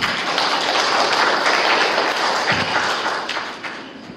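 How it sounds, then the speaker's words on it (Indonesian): An audience at an Indonesian religious talk applauds, a dense, steady burst of clapping from a crowd that tapers off near the end. "Tepuk tangan juga boleh."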